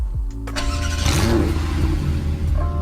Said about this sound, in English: here are the revs and startup on the base 911.